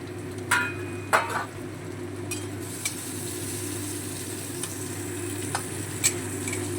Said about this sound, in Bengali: সবজিগুলো তেলের মধ্যে ভালো করে নেড়ে চেড়ে নিয়েছি